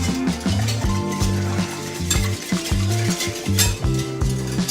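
French toast egg mixture with cinnamon being whisked in a bowl, giving quick, close, irregular scrapes and taps under steady background music.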